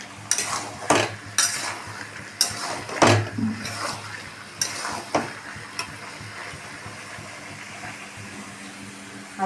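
Chana masala cooks in a pan, with a metal spoon clinking and scraping against the cookware at irregular moments over a faint sizzle, close by and with no talk.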